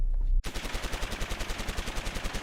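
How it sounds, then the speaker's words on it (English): Rapid automatic gunfire bursting out after a brief low rumble, a fast steady stream of sharp close shots repeating evenly until it cuts off, dramatic and loud. "A blast of gunfire crashes against the pillar that Jack has his back firmly planted against"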